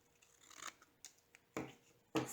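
Scissors snip through paper or card while making a photo folio, giving four short, crisp cuts spaced unevenly and growing louder, with faint rustling in between and no talk.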